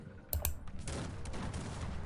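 Shooters' gunfire in the strategy video game Cossacks 3, a few sharp crackling volleys near the start followed by a dense continuous battle clatter, fairly loud with no talk.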